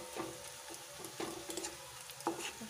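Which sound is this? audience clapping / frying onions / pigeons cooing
frying onions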